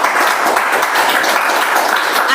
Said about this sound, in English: Let's give a round of applause for her, please.